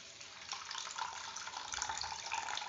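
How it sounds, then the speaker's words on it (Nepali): Garlic-ginger soaking water for laphing broth poured into a bowl, a soft continuous trickling splash heard close but faint, with no talk. "पानी मात्र हाल्दैछौँ यसरी।"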